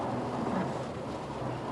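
Rain and distant thunder used as a background effect in an English-language course dialogue, a steady broadband wash with a low rumble running through the whole stretch, with no talk over it.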